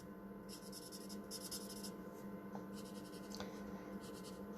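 Soft scratching of colouring pencils on paper as a bookmark card is coloured in, faint strokes repeating in short bursts over a steady low room hum.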